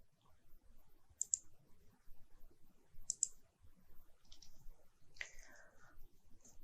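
Sharp, faint clicks of a computer mouse in structural design software sound twice a few seconds apart, followed by a few quieter taps in a quiet room.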